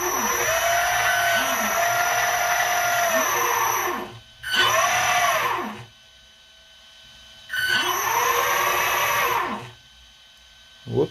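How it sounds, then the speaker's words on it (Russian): An RC tracked model tank turns with one electric motor spinning faster than the other, producing loud whirring motor bursts that rise and fall in pitch, separated by brief quiet gaps. "Один мотор быстрее крутится,"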